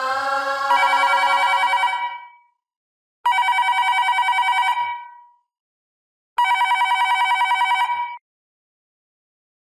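A telephone rings alone and loud in three long bursts of bright trilling bell tone, separated by brief pauses.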